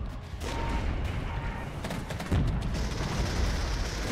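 A Gepard anti-aircraft vehicle in the Regiments war game opens fire, with rapid cannon bursts and booms over a rumbling battlefield backdrop. The shots come in clustered volleys of moderate loudness.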